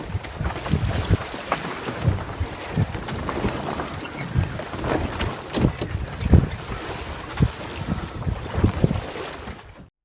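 A sailboat moves under sail on Loch Craignish on the Scottish west coast, with loud wind buffeting the microphone and water rushing and slapping against the hull, and no talking.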